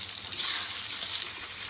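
Chopped tomato and a paste of ginger, cumin and green chili frying in a pan, giving a steady, close sizzle with a bright hiss that holds evenly throughout, no voices.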